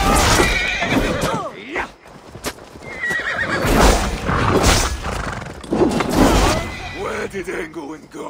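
A horse neighs and whinnies in Assassin's Creed Valhalla during the Siege of Paris, with hooves clip-clopping and battle thuds around it, loud and close with repeated calls over a busy game soundscape.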